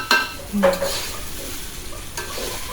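Rice for pulao is stirred and fried in a pot, with two or three scraping spoon strokes over a quiet, low sizzle.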